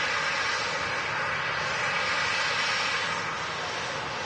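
A barely one-year-old Airbus A321neo jet airliner departing Manchester Airport for Istanbul, heard as a loud, steady broadband engine roar throughout with no speech.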